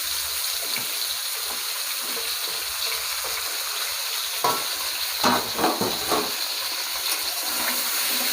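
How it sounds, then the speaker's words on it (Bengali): Pumpkin and Malabar spinach fry in hot oil, a steady broadband sizzle with occasional stirring clatters and bumps in the middle, no talk. "এই তেলের মধ্যে আমি কুমড়ো পুঁই শাকটা ভেজে নেব।"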